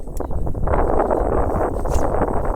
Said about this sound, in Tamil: கொடூரமாக காற்று அடிச்சிட்ருக்கு